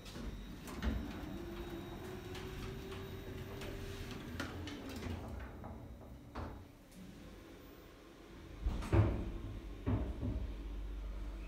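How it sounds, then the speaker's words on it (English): Low mechanical hum with soft rattles and clicks, then a heavier clunk near the end as sliding lift doors shut at Newcastle Central Station. "Doors closing."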